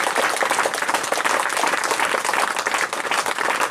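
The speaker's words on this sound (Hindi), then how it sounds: "ताली बजा रहे हैं" An audience at a business seminar bursts into steady applause, dense overlapping clapping filling the room at full volume for the whole stretch with no voices over it.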